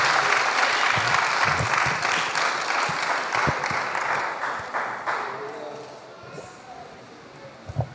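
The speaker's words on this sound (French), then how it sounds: "Applaudit la parole fortement" A church congregation applauds loudly during a worship service, a dense wash of clapping mixed with crowd voices and occasional thumps that slowly dies down toward the end.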